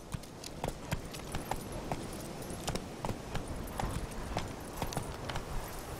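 Roach, the horse in The Witcher 3: Wild Hunt, gallops with rapid, clear clip-clopping hoofbeats in a steady rhythm. The hooves are moderately close and sound alone.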